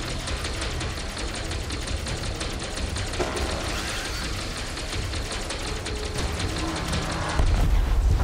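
Spaceship weapons fire steadily in Elite Dangerous, a dense continuous mechanical rattle of rapid shots with engine drone beneath, rising to a heavier burst near the end, with no talk.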